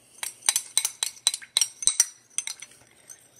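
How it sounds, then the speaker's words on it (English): Homemade slime being stirred in a bowl with a utensil, giving a run of quick, close clinks and scrapes in an uneven rhythm, fairly loud with no talking. "So now you gotta stir it."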